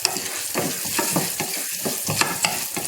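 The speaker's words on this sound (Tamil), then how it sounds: "இதே நெய்யில் நான் 1/4 கப் அளவுக்கு ஜவ்வரிசி போடுறேன். அது நல்லா பொரியிற அளவுக்கு வறுத்துக்கணும்." Sago pearls fry in ghee with a loud, continuous sizzle, overlaid by rapid, constant stirring and scraping close by.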